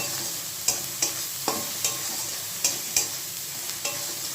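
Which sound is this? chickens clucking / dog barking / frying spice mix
frying spice mix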